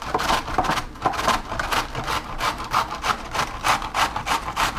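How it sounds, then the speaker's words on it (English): Half a cauliflower is scraped against a hand grater in quick, repeated rasping strokes, close and fairly loud, with an uneven back-and-forth rhythm and no talking. "Cut the cauliflower in half. And you gotta grate it like this."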